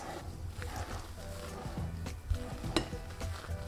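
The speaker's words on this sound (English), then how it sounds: "Folding in the dry ingredients into the egg whites." A spatula folds dry ingredients into whipped egg whites for sugar-free keto French macarons, making soft, close scraping and sloshing strokes against the bowl with a few light knocks, alone and fairly quiet.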